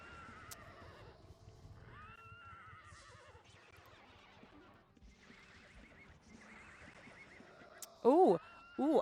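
Horses in the game Ultima Online let out two loud, shrill whinnies near the end, after a stretch of faint hoofbeats and game sounds while people chat over them.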